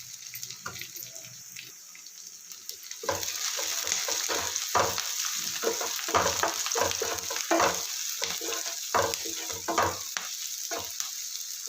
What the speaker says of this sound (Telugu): అల్లం వెల్లుల్లి పేస్ట్ వేగిపోయిందండి